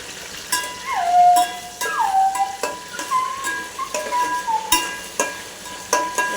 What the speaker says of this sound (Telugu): బాగా ఫ్రై చేసుకోవాలండి